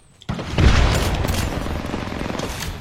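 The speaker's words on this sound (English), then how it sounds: "Look out, grenade." A grenade blows up in a video game with a sudden loud boom, followed by a rumbling, crackling roar that gradually fades.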